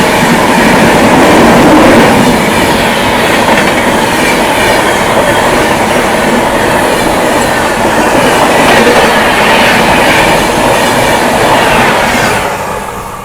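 The Garib Rath Express 12187 runs on rails near Gadarwara, on its route between Jabalpur and Mumbai. A loud, constant roar and rumble of wheels on track with rhythmic clatter is heard from on board, easing slightly at the end.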